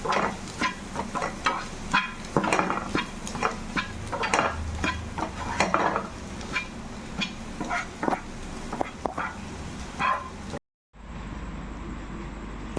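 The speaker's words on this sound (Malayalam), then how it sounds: "നന്നായിട്ടൊന്ന് ഇളക്കി കൊടുക്കും" Turmeric and chilli powder being stirred into egg rice in a pan, with a spoon scraping and clicking steadily against the metal over a soft sizzle, followed by a brief gap and then a low hum.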